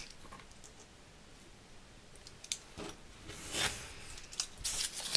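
Scissors snipping paper for a Christmas album page, a few quiet, close cuts and rustles, growing slightly louder toward the end against a soft, near-silent background.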